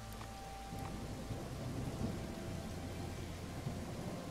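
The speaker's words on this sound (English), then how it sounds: "It's really raining here." Steady rainfall with low rolling thunder in the farming video game Acres, an even wash of rain from start to finish, with no talk.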